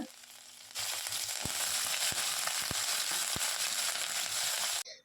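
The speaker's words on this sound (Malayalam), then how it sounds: "ഒപ്പം തന്നെ കുറച്ച് കറിവേപ്പില കൂടി ഇട്ട് ജസ്റ്റ് ഒന്ന് മൂപ്പിക്കുക" Dry red chillies broken in half and curry leaves fry in hot oil for a sweet banana uppumavu, giving a steady, close, dense sizzle with a few sharp crackles and no talking.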